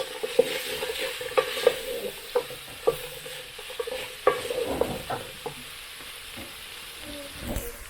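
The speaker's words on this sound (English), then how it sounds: "After that, I love to mix like this." A spoon scrapes and knocks steadily through a pot of homemade beef stew, with repeated clinks against the pot over a soft, constant bubbling and sizzle, and no talking.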